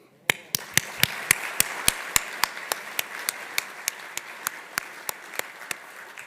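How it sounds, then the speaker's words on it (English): Clapping at a 2025 administrative service awards ceremony comes as a steady run of about twenty sharp, evenly spaced claps, crisp and fairly close, over a quiet room. "could we just have one more round of applause before we get this thing started?"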